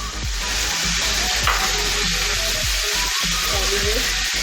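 Onions frying in a pan for mutton pulao, a steady dense sizzle with occasional stirring scrapes, close and continuous throughout without speech.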